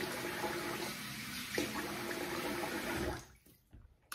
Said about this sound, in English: I'm gonna wet the face again.